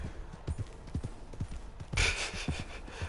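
Horse hooves clip-clopping in Red Dead Redemption Online, a steady rhythmic trot of fairly soft thuds with a brief louder rustling burst midway, no speech.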